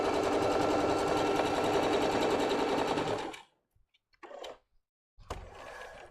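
Sewing machine stitching fabric for a summer dress, running in a steady fast rattle for about three seconds and then stopping, followed by short handling noises.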